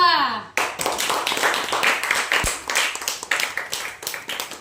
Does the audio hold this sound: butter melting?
no